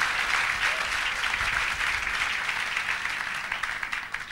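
Church congregation applauding for God during a French-English sermon, a dense, steady wash of clapping that holds loud for the whole stretch and tapers slightly at the end.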